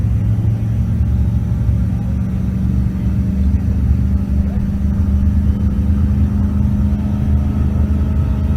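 Chevrolet Silverado truck accelerating down a drag strip at a race event in Pueblo, Colorado, a loud, steady engine rumble that holds throughout.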